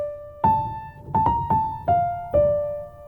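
Solo violin plays Sylvie's melody from the Loki score as a slow, clear line of sustained notes with distinct attacks, five or six notes in a row, close and alone.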